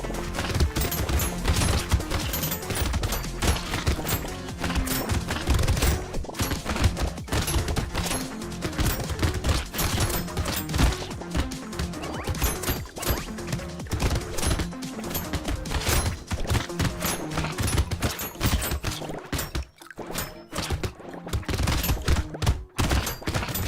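Rapid gunfire from the arena shooter video game Brotato, dense and continuous bursts of shots layered over game music and effects, loud throughout with no talking.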